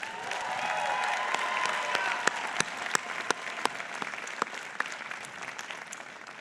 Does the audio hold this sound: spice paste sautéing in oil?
no